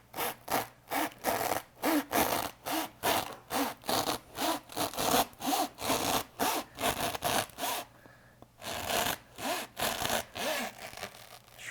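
A handsaw cuts through wood for a vehicle bumper with a close, rhythmic back-and-forth rasp of around twenty even strokes. The sawing breaks for a short pause partway through, then resumes.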